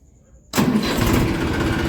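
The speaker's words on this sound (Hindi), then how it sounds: "तो ये अब कर लेते हैं स्टार्ट ट्रैक्टर को" A tractor engine cranks and catches after a half-second of near silence, then settles into a loud, steady, close-up idle with no one talking.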